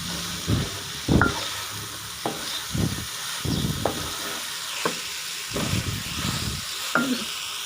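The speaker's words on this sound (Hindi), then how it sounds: "भिंडी को पका लेना है" Okra (bhindi) fries in a pan with a steady close sizzle, broken by repeated scraping stirs every second or so that swell the hiss, loud and continuous with no talking.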